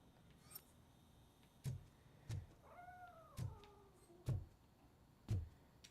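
A short, faint cat meow from the RoboCop: Rogue City video game, heard once amid a few dull, evenly spaced thumps over a low background hum.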